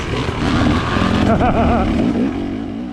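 A motorcycle on a single-track trail accelerates, its engine note climbing and wavering from fairly close by, heard alone and steady before tailing off slightly.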